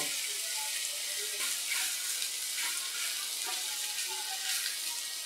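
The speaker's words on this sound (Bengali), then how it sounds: "পনিরগুলো এবার এই ঘিয়ের মধ্যে দিয়ে আমি ভেজে নেব।" Paneer pieces shallow-frying in a little ghee on a tawa, a steady quiet hiss with faint crackles throughout, no voices.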